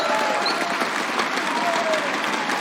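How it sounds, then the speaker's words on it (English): A crowd at an esports tournament claps steadily and loudly, a dense wash of applause with no talking over it. "If I could get a round of applause for those guys again coming out here."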